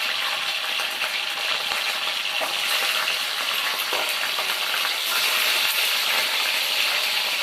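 Green chilies and fenugreek seeds fry in hot oil in a pan for fish curry, giving a steady, loud, close sizzle that crackles continuously without any voices.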